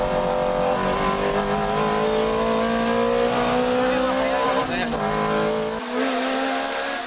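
Toyota MR-S race car cornering hard on a track, engine note holding steady and loud throughout with tire noise, then easing slightly near the end; a voice talks over it.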